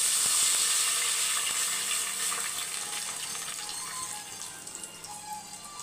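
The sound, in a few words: water poured into a cooking pot of dal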